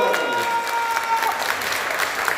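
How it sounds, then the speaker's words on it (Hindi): An audience at a Hindi poetry recital breaks into loud, sustained applause, a dense crackle of many hands clapping close by for the whole moment, with a faint voice underneath. "सारे लोग ताली बजाएंगे, जोरदार ताली।"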